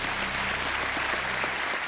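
A studio audience on the KBC game show claps steadily and loudly, a dense wash of applause filling the whole stretch without pause.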